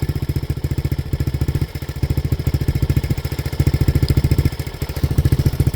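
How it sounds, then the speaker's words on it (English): A 1985 Honda ATC 200X three-wheeler with a new muffler runs on its first start, its engine putting out a steady, close, rhythmic single-cylinder chug with a brief dip partway through. "the old 85-200X has got a new muffler"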